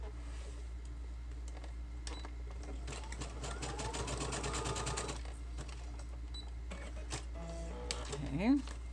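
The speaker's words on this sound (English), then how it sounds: "I'm gonna sew it at the top." Electric sewing machine stitching through the pages of a handmade journal built from a mixed paper roll, running in fast bursts with short pauses between seams, close and steady over a low hum, with soft voice nearby.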